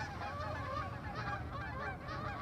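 A flock of geese honks steadily while flying past, the overlapping calls continuous and moderately distant over a low background rumble.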